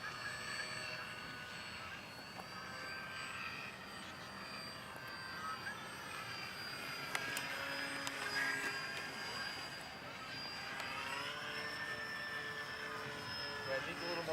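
A small radio-controlled model airplane drones steadily overhead on a windy day, its engine whine rising and falling as it flies at a moderate distance, with wind noise underneath.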